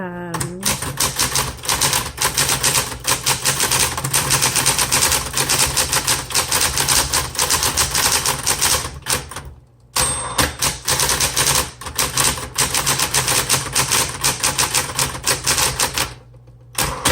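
Rapid, steady keystrokes on a 1970s Smith Corona Coronet Super 12 manual typewriter, loud and close, forming a dense clatter with brief pauses near the middle and the end.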